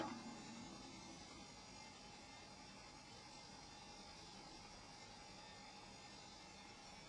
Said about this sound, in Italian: questo è il rumore di fondo in camera da letto